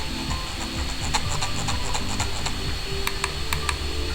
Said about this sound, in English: let's do a little sound check. Left click. Right click. Scroll wheel.